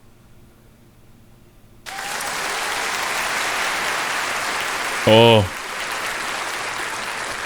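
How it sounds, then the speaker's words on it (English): Applause sound effect in the video game The Stanley Parable, a crowd clapping that cuts in abruptly after quiet and holds steady, with a short tonal game sound partway through and a player's voice briefly reacting. "big applause noise there."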